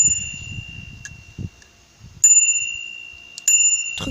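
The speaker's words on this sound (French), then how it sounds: "Après il y a une sonnette." A bell on a new mountain bike rings out in several sharp, bright dings spaced across a few seconds, each leaving a short ringing tail, with a low murmuring voice at the start.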